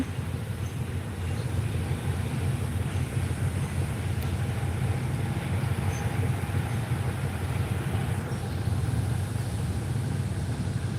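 A train pulls in at a platform at Hua Lamphong railway station in Bangkok, a steady, loud, low engine rumble that holds evenly throughout with no clear breaks.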